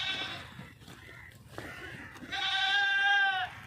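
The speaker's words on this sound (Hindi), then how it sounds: "तो आई मेरी बकरी देखो घा खा मेरी सोनी" A goat bleats on a farm, two wavering cries, the second longer and louder, with rustling and faint voices in the background.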